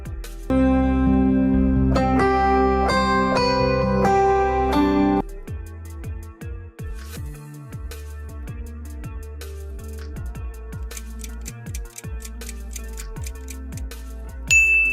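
A Samsung phone ringtone plays loud and clear, a bright tuneful melody of bell-like, marimba-style notes, first in sustained chords and then as a quicker run of plucked tones.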